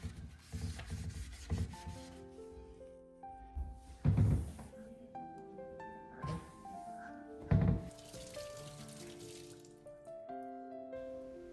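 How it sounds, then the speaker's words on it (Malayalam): Fridge egg tray and bottle rack scrubbed and rinsed under a running kitchen tap, with water splashing into the sink, rubbing sounds and a few hollow plastic thunks as the pieces are knocked about. "നമ്മൾ ഈ എഗ്ഗിൻ്റെ ട്രേയും ബോട്ടിലിൻ്റെ റാക്കും എല്ലാം കഴുകി വെച്ചു"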